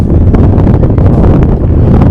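Strong mountain wind buffets loudly and continuously, a rough, roaring rush with gusty surges, high on an icy mountain near Interlaken, Switzerland.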